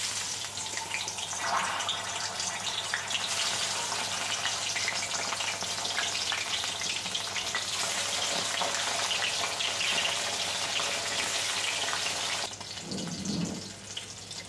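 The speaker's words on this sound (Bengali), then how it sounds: "তেল গরম হয়ে গেছে, মাছগুলো দিয়ে দেব।" Fish frying in hot oil in a wok gives a loud, steady crackling sizzle that runs almost unbroken, easing briefly near the end before picking up again, with no talk over it.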